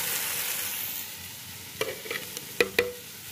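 Steady frying hiss of masala paste in oil in a pan, with a handful of sharp scraping clicks from a spoon stirring near the end, fairly close.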